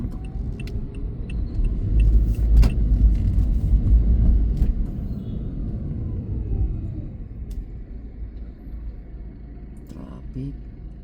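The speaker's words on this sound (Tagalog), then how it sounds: "It's traffic." Road traffic passes along a coastal drive on a sunny day, a broad rumble of cars swelling and fading over several seconds, with people talking over it.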